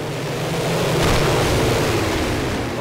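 Offroad racing vehicle in the game Nail'd splashing through water, a sustained broad rushing wash with engine rumble underneath, loud and steady throughout without talk.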